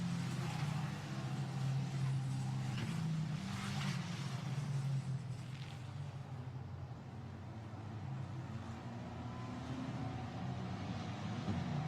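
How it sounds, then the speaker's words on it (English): A Formula Renault safety car at Imola circuit turns through a corner, a faint, steady engine drone with broad wind-like noise that holds for the whole stretch at a distance. "There's the safety car turning through."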